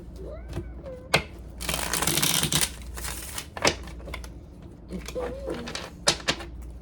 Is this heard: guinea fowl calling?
no